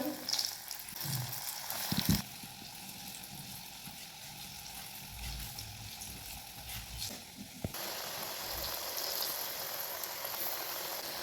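Banana pieces sizzling in hot oil in a pan, a steady loud hiss and crackle running throughout, with a brief clatter near the start and a louder surge of frying toward the end.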